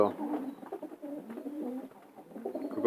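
Calm long-distance racing pigeon held in the hand, giving soft low cooing calls that run on and off, close and quiet, with someone talking over them.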